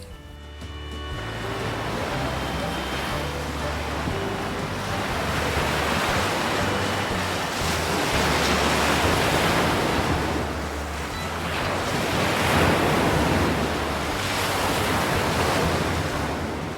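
Steady roar of surf washing onto Ladghar beach near Dapoli, swelling and easing in broad surges, with a windy rush throughout and no voices.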